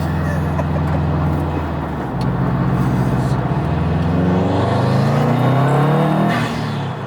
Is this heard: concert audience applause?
no